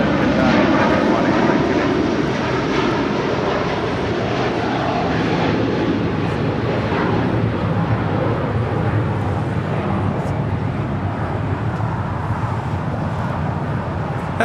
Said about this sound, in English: 742 departing to Doha on the A350-1000